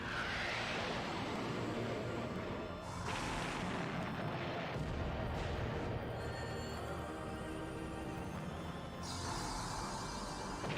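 Explosions from a VR ghost hunting video game boom in a loud, continuous barrage, with heavy rumbling blasts and bursts of debris-like noise overlapping throughout.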